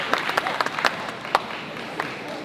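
A crowd at a Malaysian pro wrestling show applauds and cheers steadily, with scattered sharp claps popping out of a broad, continuous wash of crowd noise.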